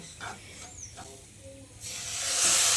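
Water added to roasted semolina in a hot pan brings a few soft sputters, then a loud hiss that swells and holds to the end.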